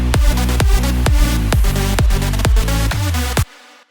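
A big room EDM lead melody plays over a pitched kick drum built in FL Studio, a loud, dense synth line punched by steady four-on-the-floor kick hits, cutting off abruptly near the end to near silence.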